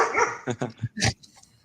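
A pet dog nearby lets out a quick run of several sharp barks and yips in an uneven rhythm, fairly loud and close, heard in a room during an online panel discussion.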